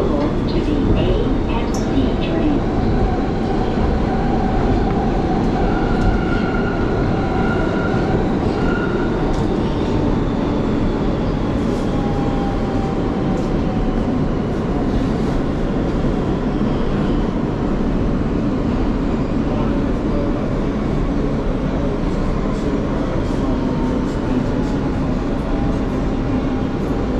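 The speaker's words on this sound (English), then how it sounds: "This is a World Trade Center bound train." An MTA subway train bound for World Trade Center rumbles steadily throughout, a loud continuous rail roar with faint squeals and clatter, heard from on board.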